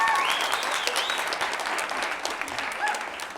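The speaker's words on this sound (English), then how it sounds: "So can we give Tegan a special round of applause?" An audience at a band telethon applauds for a new drummer, a short burst of steady clapping that gradually fades, with a few whoops rising over it.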